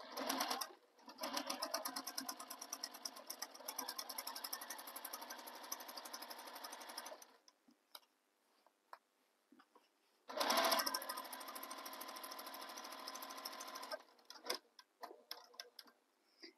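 A sewing machine stitches a tote bag seam with back stitching, running in one long steady burst, then stopping and starting again for a second run, close and rhythmic.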